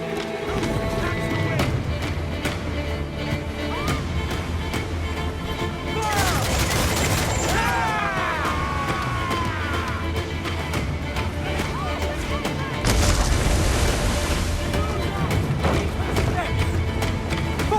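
Heavy ship cannon fire in Assassin's Creed IV Black Flag, with booming volleys and crackling bursts during a naval battle over a dense roar of wind, water and music, while voices shout orders.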